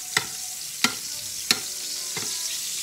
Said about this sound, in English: just wanna keep basting